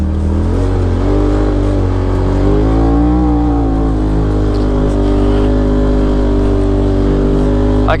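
A Polaris RZR XP Turbo side-by-side drives hard on a dirt track with its engine loud and close, and the revs rise and fall through a continuous roar.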